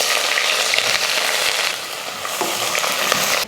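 Sliced onions frying and sizzling in hot oil with whole spices, a dense, steady crackle close up that runs the whole time without voices, easing slightly midway before picking back up.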